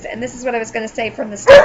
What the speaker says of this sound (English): that's my dog chiming